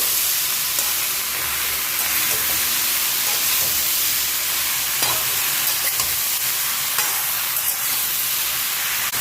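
Water lily stems mixed in a pan with green chili paste, turmeric and salt give off a continuous soft sizzle, with occasional light clicks from stirring and a faint low hum underneath.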